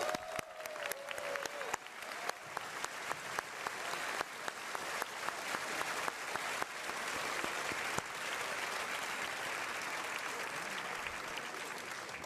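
A large audience applauds the candidates at a Conservative party leadership debate, steady sustained clapping from a big crowd heard at a distance, with sharper individual claps standing out early and the sound settling into an even wash.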